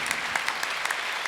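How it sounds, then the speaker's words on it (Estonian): At the 2009 Tartu Music Days symphonic concert, an audience claps in steady, dense applause for conductor Tarmo Leinatamm and the Vanemuine Symphony Orchestra, with a crisp, even crackle throughout. "Teeme suure aplausi meie maailma kõige paremale dirigendile üldse."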